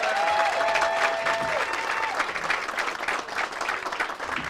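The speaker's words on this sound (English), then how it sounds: "let's give these students a round of applause" Warm round of audience applause for students at the Arlington Echo 50th anniversary celebration, many hands clapping steadily and loudly, with a brief tonal whistle or feedback early on that then fades.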